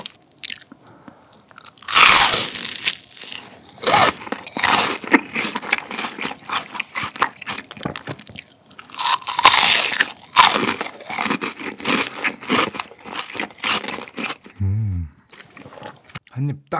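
Crisp, loud crunching bites into deep-fried shrimp toast (menbosha) followed by steady close-up chewing, with bursts of crackle repeating through the clip and a brief low murmur near the end.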